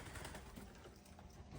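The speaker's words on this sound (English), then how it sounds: "there's some mourning doves in here, not mourning, collared doves in here too" Collared doves cooing in an outdoor hobby farm pen among other birds, a faint, low coo carried under steady broadband background noise, with no talking.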